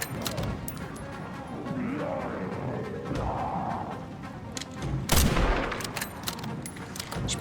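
Gunfire in the video game Resident Evil Requiem, a string of sharp shots and impacts over game ambience, with one loud burst standing out near the end.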